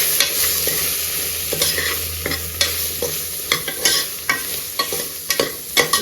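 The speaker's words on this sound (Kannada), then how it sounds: "ತರಕಾರಿ ಫ್ರೈ ಆಗಿದೆ. ಇವಾಗ ನಾವು ಸಾಂಬಾರು ಪುಡಿ, ಚೆನ್ನಾಗಿ ಮಿಕ್ಸ್ ಮಾಡ್ಕೊಳ್ಳೋಣ" A spoon scrapes and clacks repeatedly in a pan as fried vegetables are stirred with sambar powder, over a continuous soft sizzle, with close, irregular strokes and no talking.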